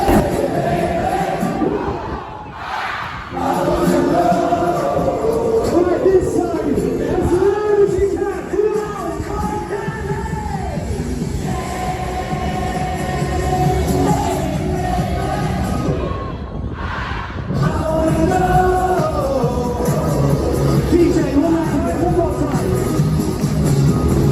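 A large crowd fills a party on a cruise ship, with dense babble and shouted cheers swelling and falling throughout, broken by a couple of short louder whoops.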